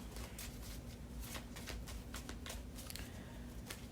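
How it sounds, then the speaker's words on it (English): Soft, rapid riffling and flicking of tarot cards, a steady shuffle with brief crisp bursts, close by and fairly quiet with a low hum underneath. "Let me just shuffle out these cards a couple times"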